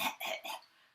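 A voice imitates a woman coughing on a plane flight, three quick, breathy coughs in a row, close and fairly loud, then fading out.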